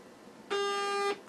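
A Swiss Arms programmable burst unit on an airsoft gun gives a single short electronic beep, a steady tone of about half a second, thin and close over faint room hiss.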